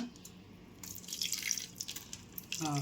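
Water is poured into a kebab mixture, a soft nearby trickle and dripping that grows louder midway, then a fuller splash at the end.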